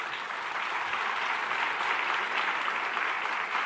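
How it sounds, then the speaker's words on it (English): Steady, dense applause from a conference audience after a vice president's speech at the National Urban League Conference, continuous and loud throughout with no talk over it. "Vice President Biden, give him another round of applause."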